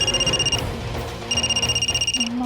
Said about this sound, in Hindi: ममता का फोन है क्या?